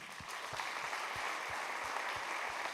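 A concert audience at a students' recital applauds with steady, fairly quiet clapping from a crowd, with a few distinct rhythmic claps standing out over the general patter.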